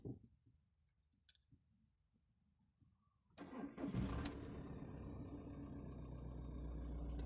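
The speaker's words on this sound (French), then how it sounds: "on va démarrer la voiture et ensuite contrôler que ça fonctionne bien" A car engine is started after a quiet pause: the starter cranks briefly, then the engine catches with a loud burst and settles into a steady idle that grows slightly louder, recorded up close.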